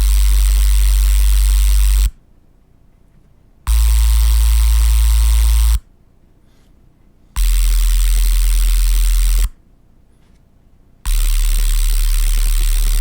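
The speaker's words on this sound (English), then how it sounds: "It's just noise and a sine wave that are distorted together" A synth layer of noise and a sine wave distorted together plays in four loud, sustained bursts with a heavy low hum, each cut off abruptly by a short silence.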